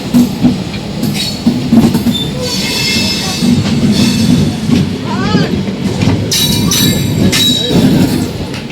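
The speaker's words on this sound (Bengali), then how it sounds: "আমাদের ঠিক পাশ থেকে একটা লোকাল ট্রেন বের হয়ে যাচ্ছে" A local train runs right alongside on the Amtala–Howrah route, loud and close, its wheels squealing over a steady rumbling roar, with faint voices mixed in.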